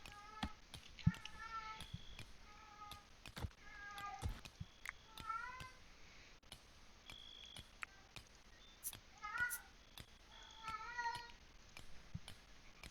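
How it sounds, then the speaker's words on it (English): A pet cat meows repeatedly in short, bright calls somewhat off-mic, with beeping electronic tones and sharp clicks around it and no talking. "Can you hear my cat in the background?"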